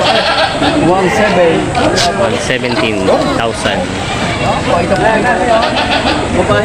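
Goats bleating repeatedly amid a crowded livestock market, with people chatting loudly throughout and faint engine noise in the background.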